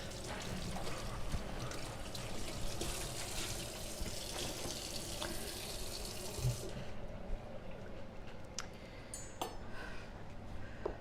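A cloth is rinsed under a running kitchen tap, a steady hiss of flowing water splashing into the sink that eases into a quieter trickle partway through, close and unbroken with no talk.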